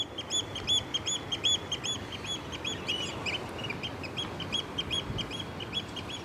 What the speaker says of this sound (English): There's some very loud bird action going on.